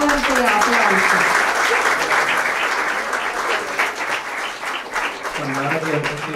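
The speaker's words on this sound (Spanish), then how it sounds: "le brindamos un fuerte aplauso" A conference audience applauds loudly with dense, sustained clapping close by, thinning slightly toward the end as a voice speaks over it.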